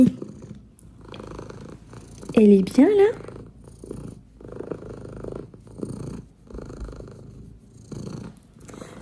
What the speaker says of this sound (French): je sais pas si vous l'entendez ronronner